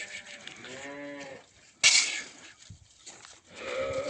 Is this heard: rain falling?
no